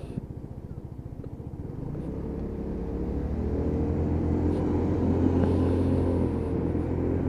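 Lexmoto Titan motorcycle ridden through traffic, its engine a steady close rumble that builds slightly as the ride goes on, with road noise mixed in and no talking.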